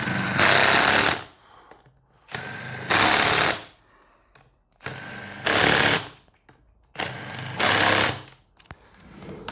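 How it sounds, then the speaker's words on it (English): A power tool torques fasteners on a Tesla Model 3 drive unit in four loud, evenly spaced bursts of rattling impact, each lasting about a second, with quiet gaps between. "We will now proceed to torque them to the correct spec in the correct tightening sequence."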